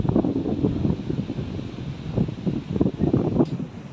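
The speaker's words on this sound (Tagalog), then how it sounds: "Kaso mahangin." Wind gusts under a bridge in blustery, pulsing bursts of low rumbling noise that rise and fall across the clip, close to the microphone.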